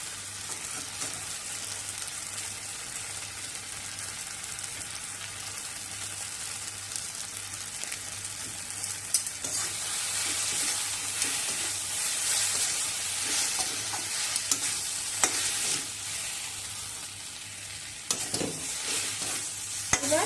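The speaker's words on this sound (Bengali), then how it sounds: "রেডি মশলা দিয়ে ভালো করে মিশিয়ে নিয়ে ওভেন বন্ধ করে দেবো" Okra fry being stirred with masala in a frying pan, a steady sizzle running throughout with frequent scraping and clattering stirring strokes, busier in the second half.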